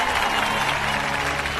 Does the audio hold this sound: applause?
yes